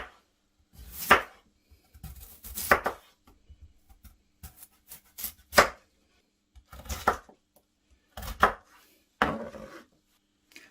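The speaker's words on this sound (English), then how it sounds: "I want to bring our potato in now, and we'll slice and cube that." Knife chopping through potato on a board while preparing a Cornish pasty filling: a series of crisp, close thuds in irregular bursts, each a few quick cuts, with quiet gaps between and no talk.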